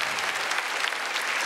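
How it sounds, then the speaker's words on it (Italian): A stand-up comedy audience applauds, a brief and even burst of clapping from a crowd at moderate level with no talk over it. "Qua ci sta l'applauso"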